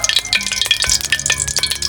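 Chicken thighs fry in fish sauce in a hot pan, a steady crackling sizzle with stirring scrapes running throughout, close and fairly loud with no talking.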